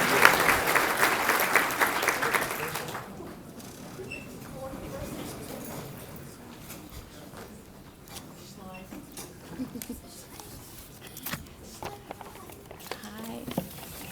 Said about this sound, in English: Final round of applause for our scholar athletes